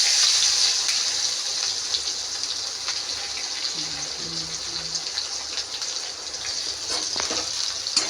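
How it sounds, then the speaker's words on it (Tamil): Mustard seeds spluttering in hot oil in a pan for egg curry, a steady, close hiss with scattered sharp pops and crackles running the whole time, with a voice faintly underneath. "கடுகு நல்லா பொரிஞ்சு வந்ததுக்கப்புறம் வெங்காயம்"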